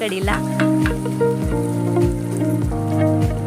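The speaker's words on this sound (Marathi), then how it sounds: "हे सगळं हे आपल्या तयार कडीमध्ये ओतायचं मस्त असा तडका बसलेला आहे" Hot tadka with asafoetida sizzling as it is poured into Kolhapuri kadhi: a loud, close crackling fry, steady under music whose repeated descending notes run throughout.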